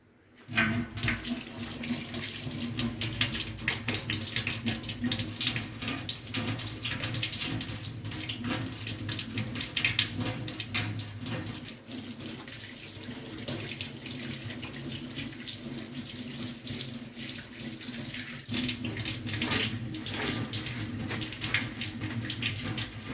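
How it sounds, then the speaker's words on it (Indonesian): Hands being washed under a steadily running tap during a six-step handwashing routine in a clinic exam room; continuous, fairly loud splashing water flows with no talk. "Melakukan cuci tangan 6 langkah."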